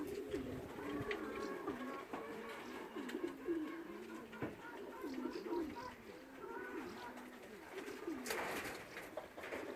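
Young racing pigeons at a loft cooing repeatedly in soft, low, rolling calls, several birds overlapping at close range, with light rustling and a few sharper noises in between.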